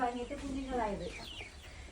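Chickens hatched from home eggs cluck and chirp softly nearby, a few short calls overlapping, with quiet background noise.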